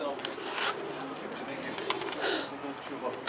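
Pigeons cooing overhead on a rooftop: soft, repeated coos and wing flutters close by, mixed with people talking.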